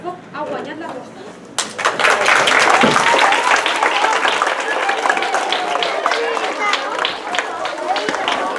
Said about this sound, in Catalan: Es sent un ambient d'alegria, aplaudiments i eufòria que indica que el senyor Fogg ha guanyat l'aposta.